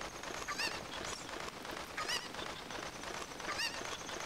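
Repeated bird calls from a chicken in Zelda: Ocarina of Time, heard as three short, bright squawks spaced about a second and a half apart over steady background noise.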